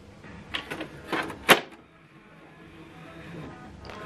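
The carriage of a Canon Pixma TS3452 printer shifts to the corner after the lid closes, making a few close mechanical clicks and knocks followed by a quiet motorized whir that fades off.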